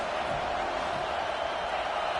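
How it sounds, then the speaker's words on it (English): A football stadium crowd roars steadily and loudly throughout, a dense wash of cheering at a Michigan State vs USC game with no distinct individual voices. "This crowd trying to make life miserable for this offense."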